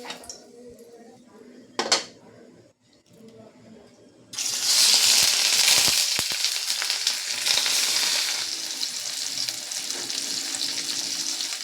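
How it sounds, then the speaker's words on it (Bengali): Rohu fish pieces hit hot oil in a wok, starting a loud, steady sizzle that runs to the end after a quieter stretch with a couple of utensil knocks. "তেল দিয়ে মাছগুলোকে আগে ভালো করে ভেজে নেব।"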